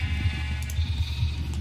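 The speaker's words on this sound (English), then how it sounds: "We got 16 different sheep and we got 3 different colors of each." Sheep bleat in a Minecraft wool farm, several overlapping calls repeating steadily at close range over a low ambient hum, with no talking.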